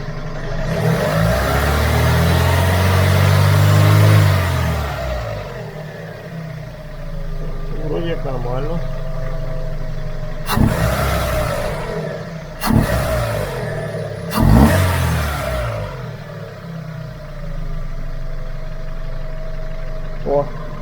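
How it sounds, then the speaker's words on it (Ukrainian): Chevrolet Aveo petrol engine revved during throttle body diagnosis on a car running poorly, a strong rising rev early on that then settles to idle, with a few sharp clicks and bumps and someone talking now and then. "так, а ну ще газуємо."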